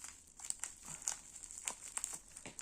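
Plastic packaging around a cross-stitch accessory crinkles and crackles as it is handled and opened, soft close-up rustling bursts in quick irregular succession.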